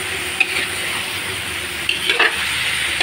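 Food is stirred in a hot frying pan with a steady sizzle and hiss underneath, broken by a few sharp scrapes and clinks of the utensil against the pan.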